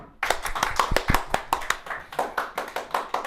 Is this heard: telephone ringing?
no